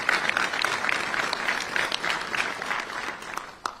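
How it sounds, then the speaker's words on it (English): An audience at a New Jersey governor's transportation funding event claps in a sustained round of applause, a dense, even patter of many hands that fades slightly toward the end. "Let's give her a big round of applause for that."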